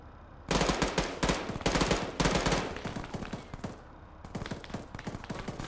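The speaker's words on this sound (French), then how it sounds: "J'ai shooté le conducteur et ça tire." Automatic gunfire in a survival shooter game: dense bursts of rapid shots, loud and close, with short pauses between volleys and a few quieter shots near the end.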